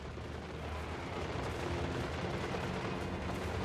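Rifle cavalry firing in the Total War: Warhammer III battle game, a dense, continuous crackle of distant massed gunfire blending into a steady roar with no distinct individual shots.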